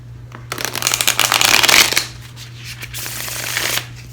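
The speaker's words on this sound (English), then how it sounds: "I'm gonna go ahead and shuffle these" A deck of playing cards is shuffled up close, a loud dense riffling burst followed by a softer second riffle, set against a low steady electrical hum.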